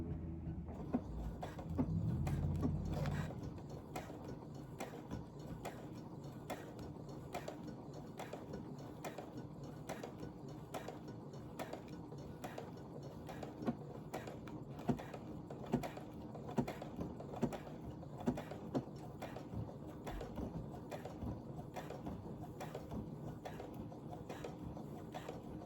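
A sewing machine runs a programmed decorative stitch on a quilted jacket, a steady, fast mechanical patter of needle strokes repeating evenly for the whole stretch, close and moderate, with a brief low rumble near the start.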